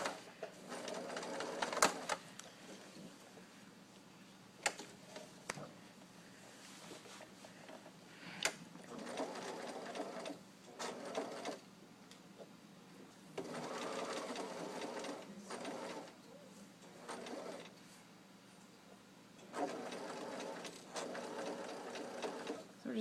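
A sewing machine stitching a set-in sleeve at a half-inch seam allowance, running in steady rapid bursts with brief pauses between runs, close and fairly quiet.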